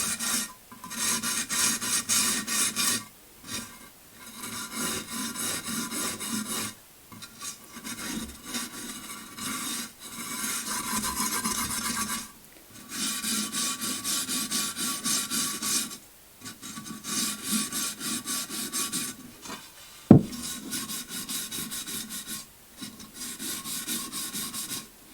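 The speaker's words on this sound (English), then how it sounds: "as I rub it off, it stays in the lower parts." Repeated rubbing strokes as glaze is wiped off a textured surface, a close, dry rasping scrape in bursts of a few seconds separated by short pauses, with one sharp knock near the end.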